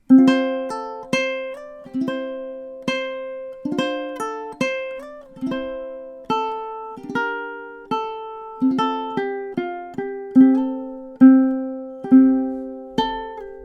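A ukulele picks out the Celtic melody "The Parting Glass", bright plucked notes ringing clearly one after another at a moderate, steady pace with no voices.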